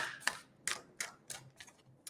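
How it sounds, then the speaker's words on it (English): Tarot cards being shuffled by hand during a live reading: a run of soft, crisp riffling bursts at a steady, slightly irregular rhythm, close and quiet with no talk. "I'm just giving these a good shuffle"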